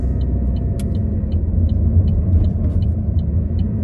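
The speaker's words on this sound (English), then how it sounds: "Why is this truck and trailer literally going to the school?" A truck pulling a trailer rolls past on a road near a school, a steady loud low engine rumble filling the whole stretch, with faint regular ticking above it.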